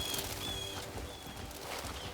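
Horse hooves clopping in a steady rhythm in the video game Crimson Desert, over a constant noisy background, with faint bird-like chirps.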